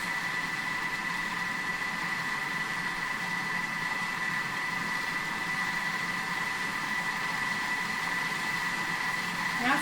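Thermomix TM6 churning cream into butter, a steady mechanical whir with a constant tonal hum running without a break at moderate loudness, with no talk over it.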